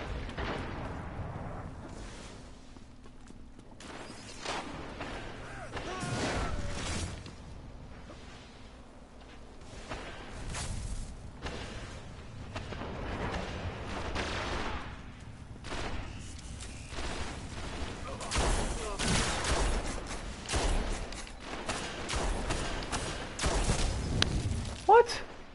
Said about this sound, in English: Four shotgun shells on that guy.